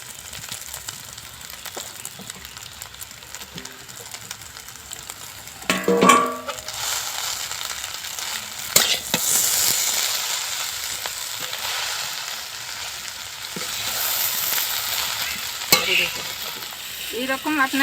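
Already-fried vegetables stir-frying in a pan with chili powder over a clay stove, a loud, close sizzle that surges as they are tossed in, with scraping and light clatter of a spatula throughout.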